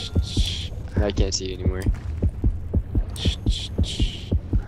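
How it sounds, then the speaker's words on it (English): A heartbeat in the underwater shark game Depth thumps in a steady, quick, loud double-beat rhythm over a low hum, with a player speaking briefly over it. "Why is my heartbeat going crazy?"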